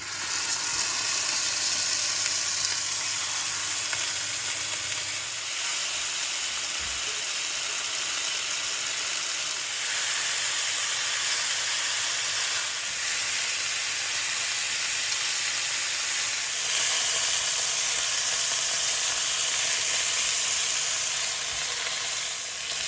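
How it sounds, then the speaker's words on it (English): Wild rabbit meat sizzles steadily in a hot cast iron pan, a loud continuous hiss with occasional faint clinks and scrapes. "Let's make a nice fried surface on these ones."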